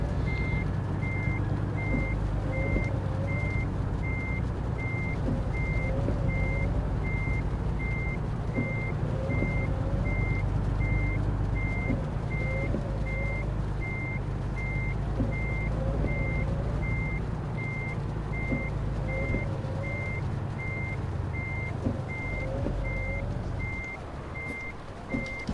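A truck reversing a trailer in American Truck Simulator, its steady reversing beeper sounding over a low, continuous diesel engine rumble, with faint repeated chirps and an air brake hiss near the end.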